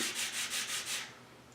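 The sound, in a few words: sanding wood on a sandpaper block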